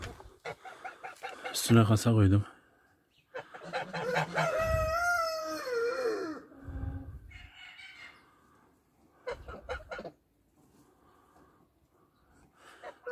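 A Brahma chicken clucks and squawks loudly up close, with a drawn-out rising call, while a person speaks briefly nearby.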